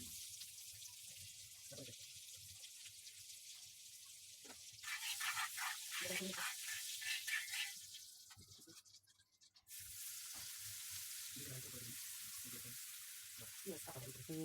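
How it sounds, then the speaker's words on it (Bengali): Butter sizzling on a hot griddle while beef sizzler is being made, a soft steady frying hiss that swells into louder crackling bursts, with a brief dip before the sizzle resumes. "তাওয়াতে বাটার দিয়ে দিলাম"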